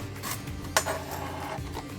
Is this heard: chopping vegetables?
yes